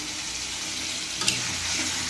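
Bottle gourd and potato fry in oil in a kadai for a Bengali hilsa curry, giving a steady close sizzle with a brief scrape of stirring partway through.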